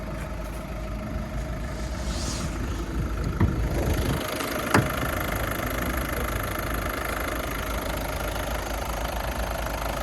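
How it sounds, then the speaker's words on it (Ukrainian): A Skoda A5 car engine idles steadily and evenly up close, a continuous low rumble with a couple of faint clicks and no talking. "Двигун працює рівненько."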